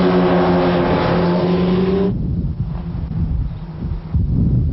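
Kawasaki Ninja ZX12R and Suzuki Hayabusa sport bikes racing on a track, a loud steady high-revving engine drone with strong harmonics that cuts off abruptly midway, leaving a lower rumbling engine sound.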